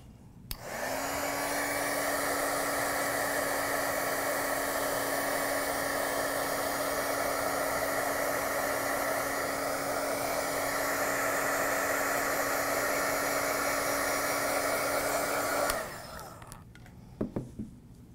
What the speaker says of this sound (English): if you do use a heat gun with any of your mediums, you want to make sure that you hold your heat gun further away